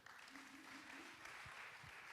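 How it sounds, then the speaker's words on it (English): Audience applause at a poetry slam fills the space with steady, dense clapping for a poet, continuous at moderate distance, with faint voices underneath. "And y'all keep clapping and welcome Skylar back to the stage."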